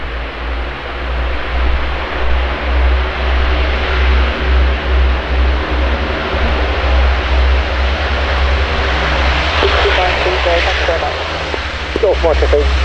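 An Avro Lancaster bomber drones steadily overhead in the late evening sun, a broad continuous engine roar filling the whole stretch with little change, and faint radio chatter surfacing near the end.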